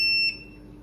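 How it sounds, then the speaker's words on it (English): A brass cleaning machine, used for rifle brass, gives one short, bright electronic beep at close range before falling quiet, leaving only a faint background hum. "keep forgetting this thing beeps like"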